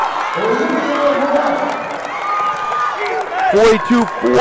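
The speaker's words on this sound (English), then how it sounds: "The crowd's into it." A crowd at a Class D girls basketball regional final cheers and roars in a gymnasium, swelling toward the end, with sneaker squeaks and a commentator talking over it.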